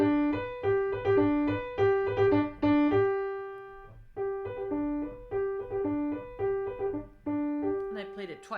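A piano plays a piece with bright detached notes imitating a bugle call in crisp repeated fanfare figures, played clearly and close with short pauses between phrases and no talking.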